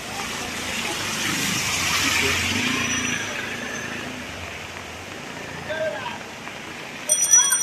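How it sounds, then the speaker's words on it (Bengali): Heavy rain falls on a flooded street in Jatrabari, Dhaka, a steady broad wash of water noise that rises and thins, with a few brief louder splashes near the end. "প্রচুর পরিমাণে বৃষ্টি।"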